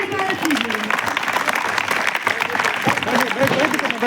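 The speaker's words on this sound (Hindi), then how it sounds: "सुनीता मैम का एक बार जोरदार तालियों से स्वागत कीजिए।" An audience claps in welcome for a guest at an interview event, with steady applause filling the room while voices talk over it throughout.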